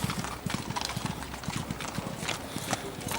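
Racehorses gallop off at the start of a race at Awapuni racecourse, a fast drumming of many hooves heard from the stands amid crowd noise and talk.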